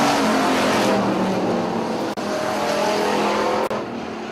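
Hobby stock race cars roar around a short oval track, a dense, continuous engine drone with shifting pitch as cars circle and pass, loud and close throughout.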